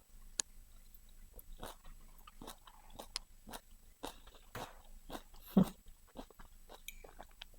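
Close crunchy bites and chewing of an apple, carrot and cheese salad, a run of crisp, irregular crunches heard alone at low volume.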